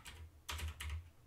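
Quick keystrokes on a computer keyboard entering a yarn command, a couple of soft clustered clicks close by in a quiet room.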